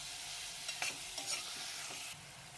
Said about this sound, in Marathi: तेलामध्ये पेस्ट व्यवस्थित फ्राय झाली की यामध्ये बारीक चिरलेला दुधी भोपळा घालायचा आहे।